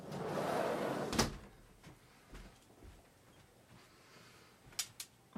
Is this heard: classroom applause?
no